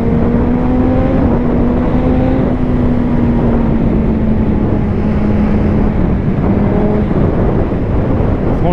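Suzuki GSX-R 1000 sport motorcycle engine droning loudly while riding, a steady mid-pitched hum that rises slowly and eases, buffeted by heavy wind noise.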